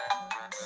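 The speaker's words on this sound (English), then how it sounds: "That's a fun ringtone." A phone ringtone plays three quick rising electronic tones in a short run. It is clear and near, with no talk over it.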